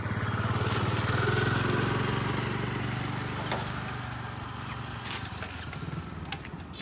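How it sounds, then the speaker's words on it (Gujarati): A motorcycle engine runs close by, idling loudly and steadily before tapering slightly as it is moved aside, with a few faint clicks over the hum. "તમે થોડું બાઈક પેલી સાઈડ લઈ જાઓ"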